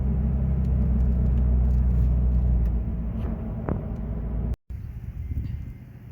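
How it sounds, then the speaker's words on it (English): A 4.0L Toyota Tacoma with a custom 3-inch exhaust cruising at about 40 mph, a steady deep exhaust drone and road rumble with wind, briefly cutting out near the end before resuming. "We're just going about 40 miles an hour. Just cruising speed,"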